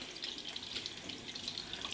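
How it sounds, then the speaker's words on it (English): Running tap water streams into a kitchen sink as hands are rinsed after working paratha dough, a steady, fairly quiet splashing hiss throughout with no voices. "I need to wash my hands now."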